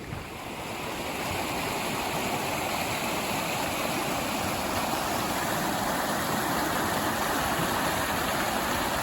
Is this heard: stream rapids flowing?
yes